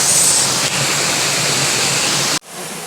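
Steady roar of the highest waterfall at Sapa, a dense broadband rush of falling water that fills the scene close by, then cuts off abruptly near the end.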